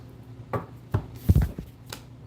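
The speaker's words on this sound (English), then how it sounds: "Let's do 3 more shuffles for Leo." Tarot cards being shuffled: a few short papery riffles and soft slaps, close and quiet, with brief pauses between each burst.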